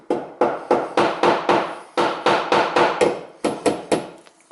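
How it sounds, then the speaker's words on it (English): A hammer knocks on a stuck part in the piston holes of a car engine. The blows are sharp and metallic, about a dozen of them in quick, fairly even runs with short pauses between. "And there is then this my hammer."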